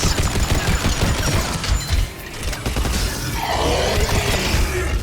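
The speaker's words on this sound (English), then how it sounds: "Let's shoot our guns a lot." Gunfire and combat effects in the video game Mass Effect 3, a loud, dense, continuous barrage of shots and crashing impacts filling the whole stretch without pause.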